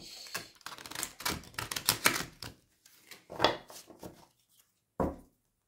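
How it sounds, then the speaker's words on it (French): A deck of playing cards is riffle-shuffled several times in quick succession, dense rapid flutters of cards snapping together, close and fairly crisp, with short pauses between passes and a final brief riffle. "on va remélanger parce que le paquet n'était pas mélangé"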